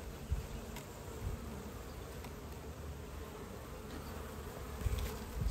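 A dense, steady buzz of many honeybees from a caught swarm close by at a hive, continuous throughout with a few brief louder bumps.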